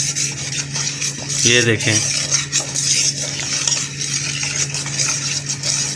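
A spoon scrapes and swirls steadily through milk and condensed milk in a bowl, a close, continuous stirring rasp, with a brief spoken phrase partway through.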